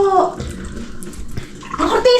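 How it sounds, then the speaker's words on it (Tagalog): Very cold water running from a tap into a kitchen sink, a splashing flow with bursts of spray, heard up close alongside intermittent talking. "magic lababo na sobrang lamig ng tubig, daig pang may yelo"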